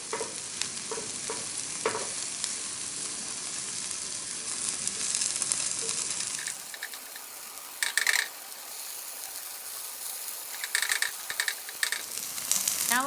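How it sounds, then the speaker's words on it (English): Takoyaki batter hissing loudly in a takoyaki pan as chopsticks scrape and tap between the holes, a dense steady sizzle with short clicking strokes, close and without talk. "Now I use chopsticks separate between holes."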